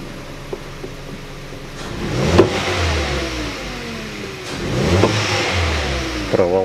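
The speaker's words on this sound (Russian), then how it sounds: "Ничего подобного, обороты плавают." A 2012 Hyundai Solaris engine with a misfire revs up twice with unsteady, fluctuating RPM, rising and falling over a steady idle hum, loud and close with no talk.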